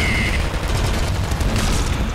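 A grenade from a golden grenade launcher exploding in the game Nuclear Throne, a loud dense burst of blasts and rumble filling the whole stretch with no pause.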